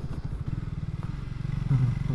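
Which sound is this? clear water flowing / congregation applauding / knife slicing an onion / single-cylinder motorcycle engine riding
single-cylinder motorcycle engine riding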